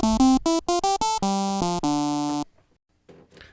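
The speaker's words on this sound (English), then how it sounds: "so our sawtooth sounds like this" An Arturia MiniFreak synthesizer plays a bright, buzzy sawtooth tone through a static phasing filter, a quick run of short staccato notes followed by two longer held notes that cut off abruptly, then near silence with a faint rustle.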